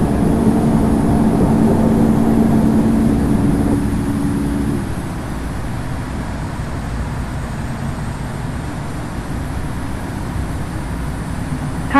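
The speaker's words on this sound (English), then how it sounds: "Cleared for takeoff runway 9 left." Simulated Boeing 787-9 jet engine roar during takeoff from Heathrow in the Infinite Flight game, a loud steady broadband rumble with a tonal whine that drops in level partway through, no talk.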